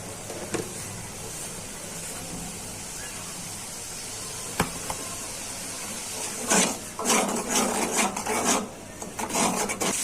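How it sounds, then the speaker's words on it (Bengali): Spice paste being stirred and fried in a pan for a Bengali fish curry, a steady low sizzle with rasping scrapes of the spoon that grow busier and louder toward the end. "এখন নেড়ে চেড়ে মশলাটা কষিয়ে নিচ্ছি"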